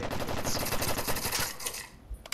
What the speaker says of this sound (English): Oh, great shot from HBK on Colts.